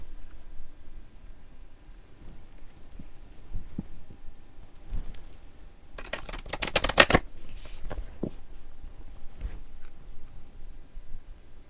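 Soft handling of oracle cards, then a sharp, crackling riffle shuffle bursts out midway, followed by quieter taps and slides of the deck.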